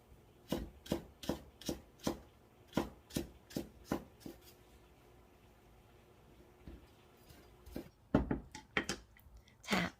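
A knife mincing green onion, garlic and ginger on a cutting board, bursts of quick rhythmic chops close by, separated by a pause, with no talk.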